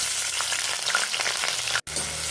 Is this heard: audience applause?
no